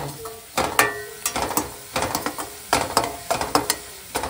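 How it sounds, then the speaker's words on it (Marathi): Garam masala and red masala sauté in a pan as a spatula scrapes in a quick, regular rhythm of sharp close strokes over a light sizzle, with no one speaking. "गरम मसाला आणि आपलं लाल मसाला परतून घेऊ."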